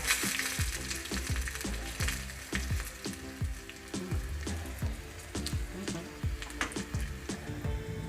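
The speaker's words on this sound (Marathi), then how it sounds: "आणि चिमटभर हिंग घालून फोडणी तयार करून घेऊया" Cumin seeds, a green chilli, curry leaves and a pinch of asafoetida are tempered in hot oil, crackling and popping in a dense close sizzle with quick, irregular spits throughout.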